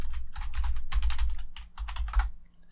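Rapid keystrokes on a computer keyboard tap out a short name in quick bursts with brief pauses, close and clear over a faint low hum.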